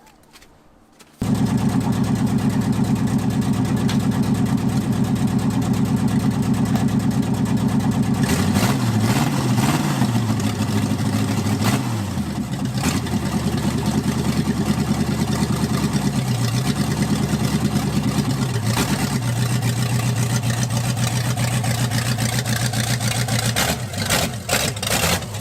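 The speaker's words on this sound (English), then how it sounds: "maybe we should do a donut or two." A big Cadillac engine runs loud and steady close by throughout, revving up and down in sustained surges as the car is driven in donuts, with no talking.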